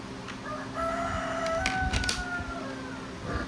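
A rooster crows once at moderate distance, its long wavering call rising and holding, while faint clicks and background hum continue around it.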